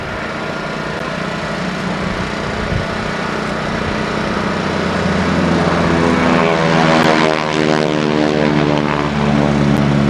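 A propeller airplane taxis at an airshow in 1986, its steady engine drone and prop buzz loud and continuous, rising slightly in pitch and intensity partway through with no voices.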